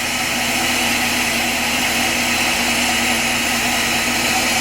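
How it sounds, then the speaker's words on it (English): A shop vehicle's engine idles while being watched for overheating, a loud, steady droning rumble with constant vibration and no change in pace, close by and alone for several seconds. "rather sit here and idle and see if it gets any hotter"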